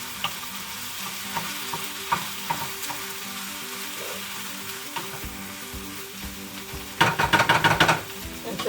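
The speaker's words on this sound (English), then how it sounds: "Give it a little stir." Meat frying in a pan for banh mi gives a steady, moderately loud sizzle, broken by light scraping stirs and a short burst of brisk stirring near the end, with no one talking.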